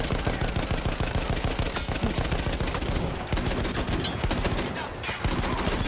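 Sustained, dense gunfire in the video game Battlefield 1, loud rapid machine-gun bursts and overlapping shots firing continuously without a break throughout.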